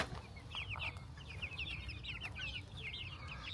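Chicks and chickens cheep and cluck continuously in a sunny outdoor pen, many high chirps overlapping at close range over a low steady background rumble, with no one talking.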